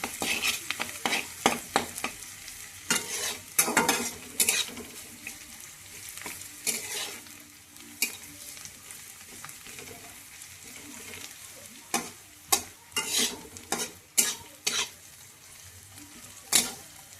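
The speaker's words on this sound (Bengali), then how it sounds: "এই যে পেঁয়াজটা হচ্ছে একটু বাদামি বাদামি ভাজবো" Onions sizzle in hot oil in a pan with a bay leaf, frying until brown, a steady crackling hiss broken by repeated loud scraping clatters of a spoon stirring against the pot, no talking.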